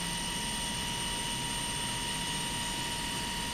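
The second engine of a helicopter built for aerobatic backflips runs with a dense, constant whine and broad roar, loud and steady throughout with a high tonal hum on top.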